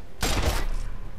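A short burst of gunfire from shooting at wreckers in Wasteland 2, a single loud broadband blast with a dense, heavy low thump, then quickly fading.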